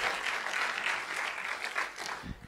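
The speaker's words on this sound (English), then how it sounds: "Strong applause." A church congregation breaks into loud, dense applause during a bilingual Spanish-English sermon, a brief continuous wash of many hands clapping together.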